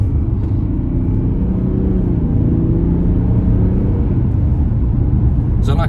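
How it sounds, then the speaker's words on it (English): A low, steady diesel engine drone rumbles continuously inside a moving 2021 Jaguar F-Pace D300, loud and even throughout, with a brief sharper noise right at the end. "It doesn't sound bad, to be fair, for a diesel."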